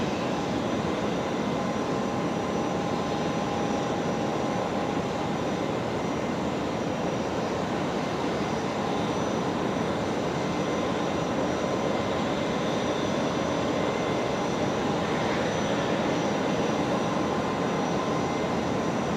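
A Qatar Airways jet taxis toward the runway at Brisbane Airport at night, its engines giving a continuous broad roar that stays steady and fairly loud throughout.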